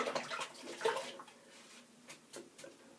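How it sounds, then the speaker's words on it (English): Running tap water splashing as a shaving brush is rinsed, a soft close gush and patter that swells and fades over a few seconds. "Let me rinse my brush."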